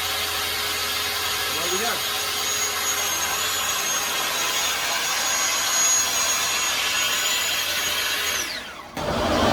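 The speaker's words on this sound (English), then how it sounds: "When I turn the saw on, I'm going to give it a second to get everything running." A Festool saw spins up and cuts steadily while a dust extractor roars underneath as one continuous loud whine, then winds down abruptly at the end; someone speaks briefly near the start.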